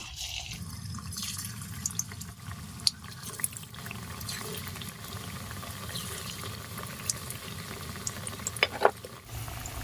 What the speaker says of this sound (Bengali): এখন আমি গ্যাসের ফ্লেমটা লো আর মিডিয়ামের মাঝামাঝিতে রেখে পিঠাগুলোকে তেলের মধ্যে দিয়ে দেব